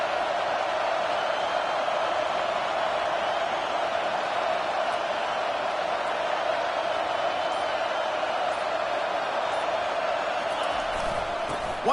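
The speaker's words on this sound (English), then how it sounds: "this crowd is turning it up a notch" A stadium crowd at an Auburn vs South Carolina college football game keeps up a steady, dense roar that never breaks, with faint commentary underneath.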